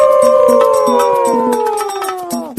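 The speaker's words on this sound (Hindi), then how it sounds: "फिर उन लोमड़ियों के झुंड ने नए राजा का अभिवादन करने के लिए एक साथ आवाज लगाना शुरू किया।" A pack of foxes howling together, several long, loud, wavering howls overlapping in a sliding chorus, with no talk.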